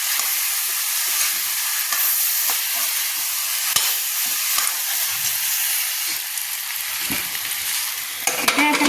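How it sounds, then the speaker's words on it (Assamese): Vegetables sizzle steadily in a pan with turmeric, salt and ginger-garlic paste, a continuous close frying hiss broken by a few soft stirring scrapes, with no voices. "ভাজিখিনি সিজিবলৈ কাৰণে ঢাকি থৈ দিছোঁ"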